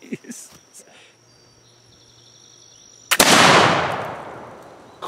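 One loud, close black powder shot from a Lyman Great Plains rifle at an outdoor axe-splitting target shoot, with a sharp crack and a long rolling boom that fades over several seconds, preceded by quiet talk and insect chirps.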